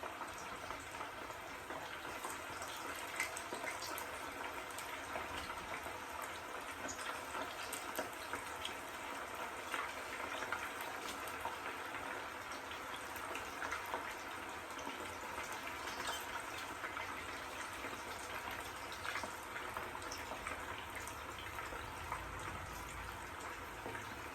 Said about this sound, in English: I'm gonna watch it fry a little bit